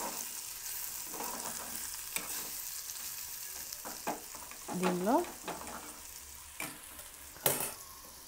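Lady's finger (okra) fry for bendakaya vepudu sizzling in a pan and being stirred, a continuous soft frying hiss with scraping stirs and a few louder clatters, one brief spoken word.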